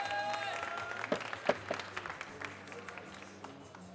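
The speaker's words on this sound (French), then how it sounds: "Honneur d'applaudissements, s'il vous plaît," Audience applause for barista Magdalena Brodzinska at the World Barista Championship France 2016 final, a moderate burst of clapping with some sharper individual claps that thins and fades over the seconds.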